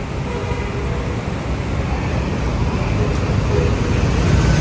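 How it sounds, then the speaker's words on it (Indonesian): A Karya Jasa RN103 tour bus passes nearby in Indonesia, a loud, steady rumble of engine and road noise that swells slightly toward the end. "Oh, ada bis pariwisata tuh"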